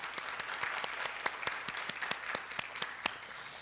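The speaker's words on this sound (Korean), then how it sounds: "어머니들에게 박수를 한번 좀 해드리면" A church congregation applauds mothers during a Sunday Mother's Day service, a steady wash of many hands clapping with sharp individual claps standing out, sustained throughout with no talking.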